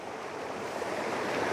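River water tumbles over rocks at the Black Linn Falls, giving a soft, even rushing wash that continues unbroken without speech.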